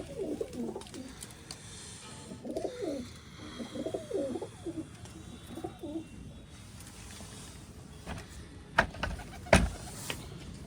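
Pigeons coo in soft, low, repeated phrases close by, with a few sharp knocks and rustles near the end.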